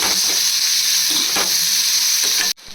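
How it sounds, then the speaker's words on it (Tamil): Onion, chana dal, dried red chillies and garlic sizzle loudly in hot oil for a bitter gourd stir-fry, a steady dense crackle with faint stirring that cuts off abruptly near the end. "கடலைப்பருப்பு, ஆனியன், காஞ்ச மிளகாய், பூண்டு இது எல்லாமே நல்லா ஃப்ரை ஆகிடுச்சு."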